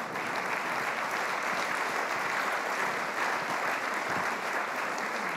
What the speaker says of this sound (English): You can certainly applaud for them, what they did there.